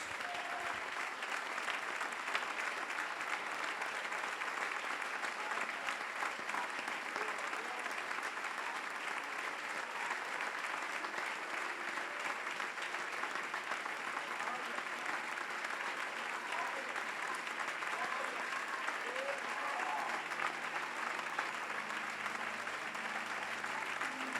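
A church congregation applauds steadily for a long stretch, a dense, even wash of many hands clapping that stays loud and unbroken throughout, with faint voices mixed in underneath.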